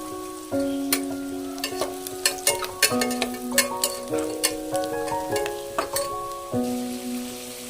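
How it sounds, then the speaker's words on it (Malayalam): Onions sizzle while being stirred and fried in a pan until brown, a steady crackle broken by frequent sharp scrapes and clinks of a spatula against the pan, with no voices. "സവാള അതിലേക്ക് ഇടുക ബ്രൗൺ കളർ ആവുന്നവരെ ഇളക്കുക"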